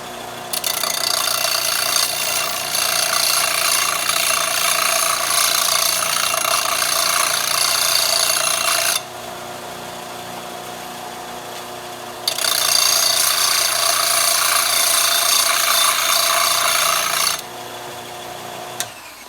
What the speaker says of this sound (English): I'm going to use my sander here to clean up the ends. It'll get going. I'll clean all the burrs off.